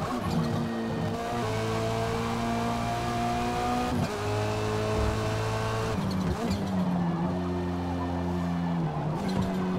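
Lynk & Co 03 TCR race car engine in Forza Motorsport, loud and up close, revving high through repeated gear shifts with rising and falling pitch and occasional tire squeal under hard cornering.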